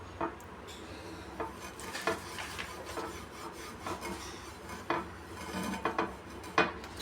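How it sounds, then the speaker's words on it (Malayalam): A cloth scrubs and wipes rust from a pan, giving close, uneven rubbing and scraping strokes with occasional metallic knocks and clatters, no voices. "ആദ്യം തുണി വെച്ച് നല്ലപോലെ തുരുമ്പെല്ലാം തുടച്ച് കൊടുക്കാം"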